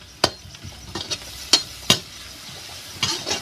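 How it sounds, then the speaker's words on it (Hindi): Onions fry in a pan over a clay stove, a low sizzle broken by sharp, loud scrapes and clanks of a spoon stirring against the metal at irregular intervals, close up with no voices. "वैसे तो हमारा प्याज भुजा रहा है"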